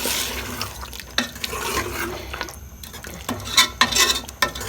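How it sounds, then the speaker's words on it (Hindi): A spoon stirs chicken curry coated in yogurt and spices in a pot, with repeated scraping and wet clicks against the pot over a low sizzle, close up and irregular. "चम्मच अच्छे से चलाएं ताकि ये जो है नीचे से ना लगे"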